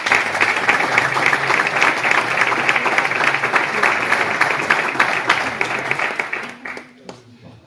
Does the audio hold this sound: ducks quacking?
no